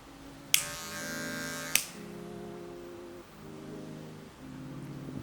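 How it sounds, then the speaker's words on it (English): An electric hair clipper fitted with a number one guard hums steadily near and fairly quiet, with two short loud bursts early on and brief dips in the motor drone, no talking. "I'm gonna put the one guard on the clipper."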